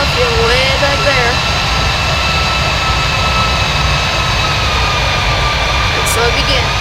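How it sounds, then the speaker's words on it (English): Engines of an airliner in cruise on a US Airways route out of Philadelphia in Microsoft Flight Simulator X: a loud, steady jet roar with a constant whine, unbroken for the whole stretch, with someone talking over it. "It's really loud. Hopefully you guys can still hear me over the engines."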